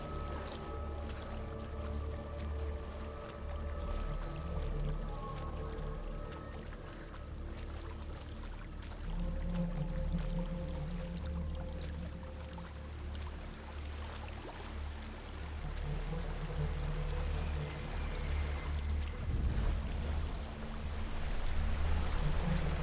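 A waterfall rushes in the video game Hellblade: Senua's Sacrifice, a steady broadband wash of falling water beneath low droning ambient music that swells louder toward the end.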